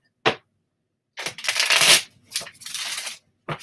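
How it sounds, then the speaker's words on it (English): Tarot cards being shuffled by hand, with a short riffle, a longer burst of dense shuffling, a second flurry, then a final snap, all close and alone. "I will try and feel when it's a good time to stop shuffling"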